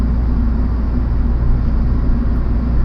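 A car engine held at steady revs in neutral, a loud, close and continuous drone that stays level throughout.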